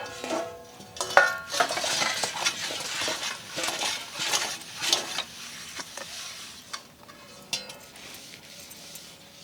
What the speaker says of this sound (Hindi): अम्मा बर्तन माजत हैं।